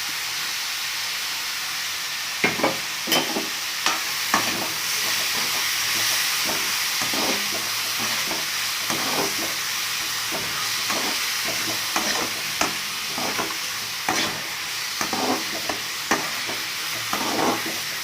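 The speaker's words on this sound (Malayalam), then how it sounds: "സവാള ജസ്റ്റ് ഒന്ന് വഴന്നു വന്നതിന് ശേഷം നമുക്കിതിലേക്ക് തക്കാളി ചേർത്ത് കൊടുക്കാം." Onion and tomato sautéing in a pan, with a steady sizzle under regular spatula scrapes and taps that recur every second or so, close and without talk.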